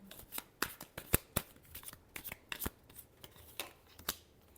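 Tarot cards are shuffled by hand in a quiet room, giving a string of crisp, irregular slaps and riffling snaps, soft overall, with no one talking.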